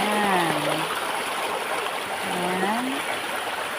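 Abundant rainwater flows in a steady, close rushing wash, with two brief voiced tones rising above it.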